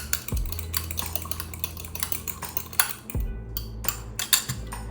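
A utensil clinks and scrapes steadily against a bowl while egg and cheese are mixed for a quick snack, a close, rapid stirring rhythm with no voices.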